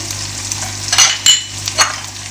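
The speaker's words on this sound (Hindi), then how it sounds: "अब आपने इनको अच्छे से मिक्स करके इसकी भुनाई कर लेनी है।" Vegetables with tomatoes and green chillies sizzle loudly in a pan while being stirred, with steady frying hiss and a few sharper scraping bursts of the spoon, close up with no talk.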